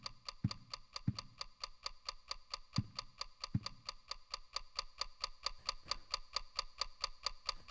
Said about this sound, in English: There's a sound. It's a clock ticking.